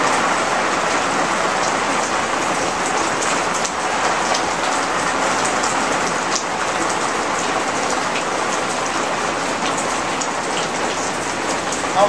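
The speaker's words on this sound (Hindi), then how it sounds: "देखते तो बारिश तो बहुत तेज चल रही है" Heavy rain pours steadily in Lahore, a dense, unbroken hiss of drops hitting surfaces, loud and close for the whole stretch without any speech.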